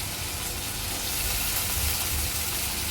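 Carrot and corn sizzle in hot oil in a pan, a steady, close, even frying hiss with no voices.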